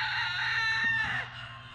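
Chickens and a rooster on a farm make a steady, fairly loud run of fowl calls with a bright crowing tone, heard alone without talk.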